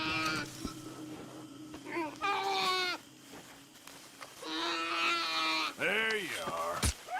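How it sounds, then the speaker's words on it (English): A baby goat in the video game Red Dead Redemption 2 bleats several times, short wavering cries in quick succession, fairly close and clear, with a faint voice briefly in the background. "Baby goat."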